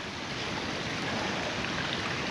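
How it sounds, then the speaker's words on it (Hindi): A small mountain stream in Gilgit-Baltistan flows in a steady, close wash of rushing water, with no voices over it. "बस इस पूरे ट्रैक पे कोई ये छोटे छोटे से चश्मे आ रहे हैं"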